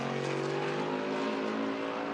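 A NASCAR Whelen Modified race car driven by Dave Sapienza roars steadily on track at Monadnock Speedway, a loud, sustained engine drone with no talking.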